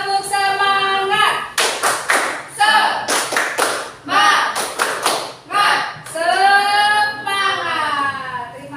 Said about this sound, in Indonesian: Yuk coba kita tepuk semangat dulu ya.